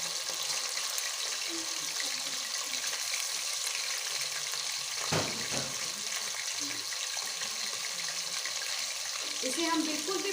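Chicken pieces frying in a pot for chicken fry pulao, a steady moderate sizzle with a sharp clatter midway as pieces go in, plus faint splashing.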